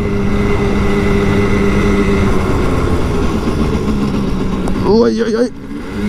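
Simson Schwalbe KR51/2L moped riding, a steady engine drone with wind noise running throughout, near and loud, with a voice speaking briefly near the end.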